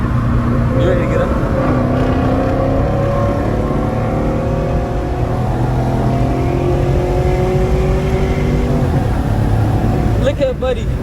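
A Chrysler 300 SRT 392 V8 revs and accelerates hard in traffic beside another car, its loud, close engine drone rising and falling steadily throughout, with road noise and a brief whoosh near the end.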